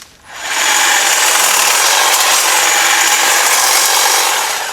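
A Greenworks chainsaw or trimmer cuts through brush while clearing land at Cedar Oaks. A loud, steady, broadband rasp starts almost at once and holds for about four and a half seconds close up, with no talk over it.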